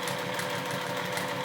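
A Juki sewing machine runs at an even pace, giving a low, quiet and steady mechanical hum with a faint rhythmic pulse throughout.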